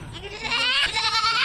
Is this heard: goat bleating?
yes